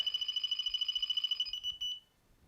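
Delkim fishing bite alarm sounding a rapid, even train of high-pitched beeps for about one and a half seconds, then a few slower ones trailing off into quiet; no voices.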